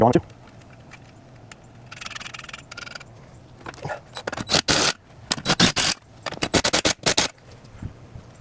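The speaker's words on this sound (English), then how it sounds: "All right, I'm putting the nuts back on." Metal nuts threaded back onto the bolts of a TV wall mount for a 65-inch TV by a pool, heard as a run of close, sharp clicks and scrapes in quick irregular bursts, with faint background noise between them.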